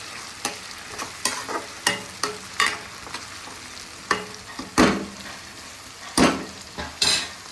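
Tomatoes and curry leaves are stirred as they fry in a pan, for a country mushroom curry: sharp spoon scrapes and knocks come at an uneven pace over a constant sizzle, close and clear, with no speech.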